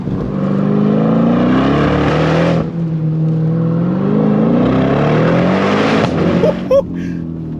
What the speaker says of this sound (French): L'explosion au passage de rapport.